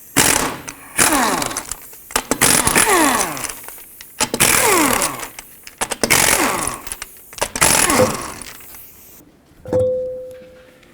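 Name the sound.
removing wheel lug nuts with a 19mm socket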